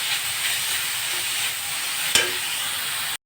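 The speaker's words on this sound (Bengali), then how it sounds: "গাজরটাকে একটু ভালো করে ভেজে নেব।" Carrot sizzling in a frying pan, a steady close hiss of frying with a brief clatter of stirring partway through, then the sound cuts off abruptly.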